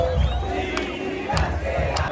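Football fans roar and chant in the stands at a Deportivo Cali versus América Cali derby in Colombia, a dense, loud crowd sound with rhythmic surges of collective shouting throughout.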